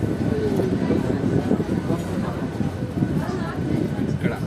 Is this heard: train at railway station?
yes